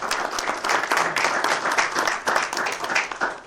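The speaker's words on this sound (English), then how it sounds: "If we could have a round of applause for Dan." A crowd at a Dunkirk, NY summer event applauds a sponsor with steady, lively clapping that holds strong throughout, a few voices faintly underneath.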